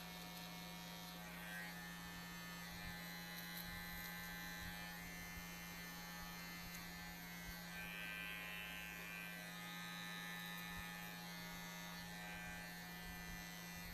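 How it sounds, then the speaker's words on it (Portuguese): Electric hair clippers buzz steadily and close up throughout a drop fade haircut, with a constant motor hum and no talking. "Posso passar a máquina desse jeito aqui também."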